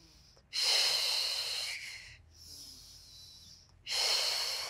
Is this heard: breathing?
yes